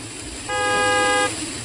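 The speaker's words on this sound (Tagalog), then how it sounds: "Oh, kinsa man sige busina sa sakyanan?" A car horn sounds in one steady, sustained honk of just under a second, fairly close and clear over quiet background room noise.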